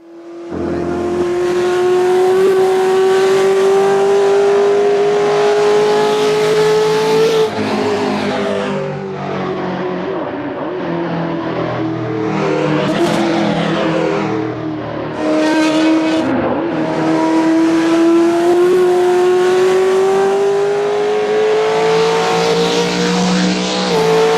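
A racing car engine in a video game revs high and loud for a long stretch, rising and dropping in pitch through gear changes, with brief tire squeals between runs.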